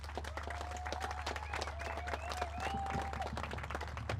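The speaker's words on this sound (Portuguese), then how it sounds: "Aplauso," Scattered clapping for a team rises from a small group at a fairly low level, with sharp individual claps over a steady low hum and faint voices in the background.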